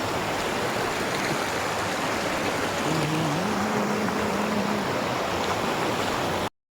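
A stream of water rushes near Ermayi waterfalls in Karnataka, a loud, constant broadband roar close by that continues unbroken, with no voices.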